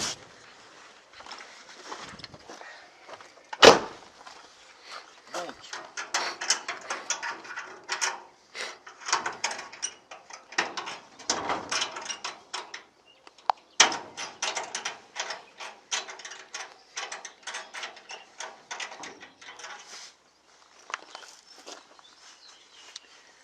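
A key scrapes and rattles in a door lock, with repeated metallic clicks, jiggles and fumbling in close, uneven bursts and a sharper clack early on, and no talk over it.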